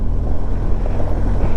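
A heavy 400 kg motorbike climbs the Singla Pass in Zanskar, its engine a steady, loud, low rumble close by with no break or talk over the short stretch.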